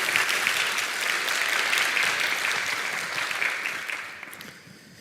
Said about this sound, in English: let's round of applause to us all